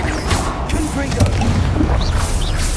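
Confringo fire spell from Hogwarts Legacy blasting in combat, a dense, noisy explosive burst with crashing impacts and mechanical clatter, continuing loudly throughout amid battle sounds.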